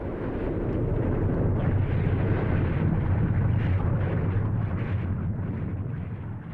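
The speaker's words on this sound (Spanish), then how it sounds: "Una explosión tan potente que provocó un cráter de 83 kilómetros cuadrados en el centro de la isla" A massive volcanic eruption explosion on the island of Crete, a dense, continuous deep roar and rumble that stays loud and sustained throughout before easing slightly at the end.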